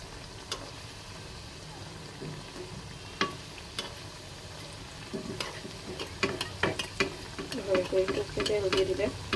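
Khaja pastries fry in oil with a quiet, steady sizzle. Scattered pops and ticks grow busier and louder toward the end, close by, with no talk.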